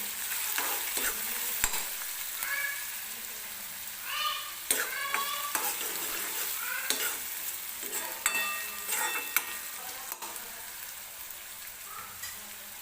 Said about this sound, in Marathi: छान असा मऊ होईपर्यंत कांदा आपल्याला तेलामध्ये भाजून घ्यायचा आहे.